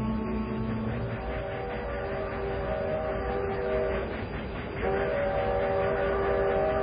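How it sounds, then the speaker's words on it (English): An eastbound freight train rolls past with a steady, loud rumble of cars, while sustained horn or whistle tones hold throughout and briefly drop out and return near the end. "That's the eastbound freight."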